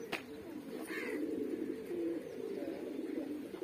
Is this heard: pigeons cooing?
yes